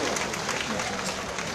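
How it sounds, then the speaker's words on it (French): Audience at a Maoulid celebration of the Prophet in Abidjan clapping together, a dense, steady wash of applause that carries evenly from start to finish. "Est-ce qu'on peut applaudir pour toutes ces belles moments ici présentes ce soir?"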